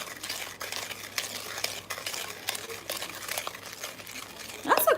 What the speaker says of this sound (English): So I've got the 2 eggs in there, and we're just gonna stir these up